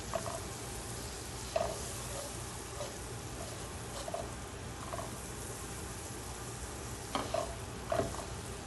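Seviyan vermicelli dry-roasting in a deep pan with cardamom powder, a soft steady scraping and stirring with a few sharper clinks of a utensil against the pan, fairly quiet and with no talking.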